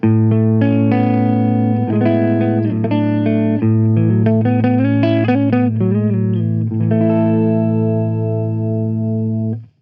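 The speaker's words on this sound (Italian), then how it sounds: "Questo è il suono dell'ampli senza nulla." Clean electric guitar playing chords and short melodic runs straight through an amplifier with no pedals, loud and sustained, ringing out at the end.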